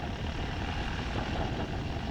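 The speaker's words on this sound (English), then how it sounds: "We're slowly advancing the throttle as we watch the engine instruments to make sure we've got what we need." Light airplane engine on a runway as the throttle is slowly advanced, a loud, steady, close droning roar that runs unbroken throughout with no pauses.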